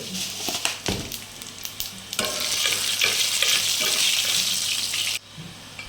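Haleem made with beef being stirred in a cooking pot outdoors in a rural kitchen: thick, wet scraping and sloshing at close range, denser and steadier in the second half, with no talking.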